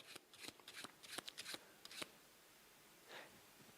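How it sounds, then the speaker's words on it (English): Playing cards shuffled off a deck during a card trick: a quick run of crisp riffling flicks for about two seconds, then a pause and one softer shuffle, close and clear with no talking. "I now shuffle off the next 3 cards"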